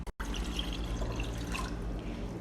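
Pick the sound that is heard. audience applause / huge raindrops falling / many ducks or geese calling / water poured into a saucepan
water poured into a saucepan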